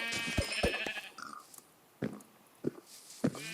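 Sheep bleat in the modded video game Minecraft, a few loud close synthetic baas followed by softer short animal grunts and snorts spaced apart.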